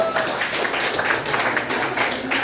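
A group of people in a school coaching session claps together, a dense, steady patter of hand claps at moderate distance, continuous and even throughout.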